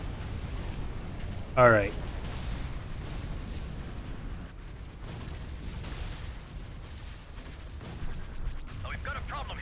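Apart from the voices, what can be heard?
cannon fire and explosions in Empire at War video game mod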